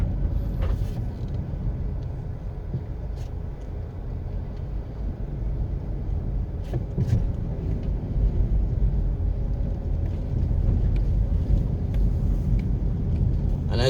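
A car drives through Ziadie Gardens in Kingston, Jamaica, giving a steady low rumble of engine and road noise from inside the cabin, with occasional faint clicks and knocks.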